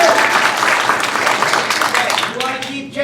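Audience applause fills a comedy improv show as people clap to vote on keeping a scene, a dense continuous wash of hands that thins slightly toward the end.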